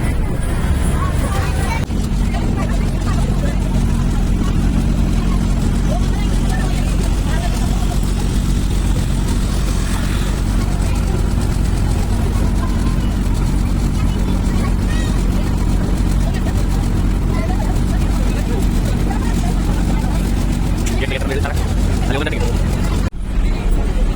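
A motor boat's engine runs continuously, a steady low drone with engine harmonics under almost constant conversation, holding at the same level throughout before cutting off near the end.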